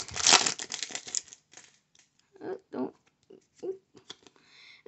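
A Pokemon card pack wrapper is torn and crinkled open, with a loud burst of foil crackling and ripping up close at the start, then a few softer rustles as someone talks.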